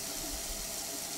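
Water running from a sink tap in the sci-fi video game Prey, a brief, steady rushing hiss at low-to-moderate level with no talking over it.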